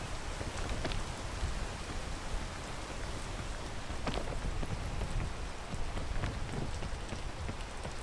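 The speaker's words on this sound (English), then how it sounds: "Wait for the rain." Rain in the climbing video game Peak falls as a steady, even hiss of drops on a surface with occasional sharper patters, continuous and moderately quiet, with no voices.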